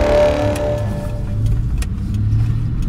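A car drives along, heard from inside the cabin: a steady low engine and road rumble, loud and close, with occasional faint clicks and no talking.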